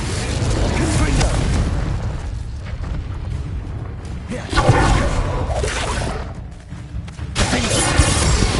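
A Confringo spell in the Hogwarts Legacy video game sets off heavy booming blasts with crackling debris among continuous battle effects. Voices are heard over the action.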